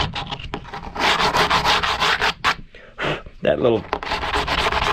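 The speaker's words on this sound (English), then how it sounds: "you better sand it again, because it's not good anymore" Repeated hand sanding strokes on a carbon fiber kayak repair patch, close and rhythmic with brief pauses between passes, and someone briefly speaking partway through.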